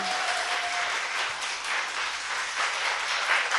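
An audience applauds steadily throughout, a dense, even wash of clapping at a Korean talk show taping honoring an Incheon politician, with no talk over it.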